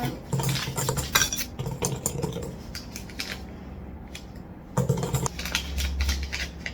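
Cake batter stirred in a bowl, with a clinking, scraping clatter of utensil against the bowl that comes in uneven bursts, eases off briefly, then resumes close by.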